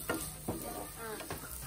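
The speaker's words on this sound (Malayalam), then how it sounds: "ഇനി നമ്മള് തേങ്ങാക്കൊത്ത് വറുത്തെടുക്കാൻ പോവാ." Coconut pieces frying in a pan for banana unniyappam, a soft steady sizzle with a few brief stirring scrapes close by, no voices.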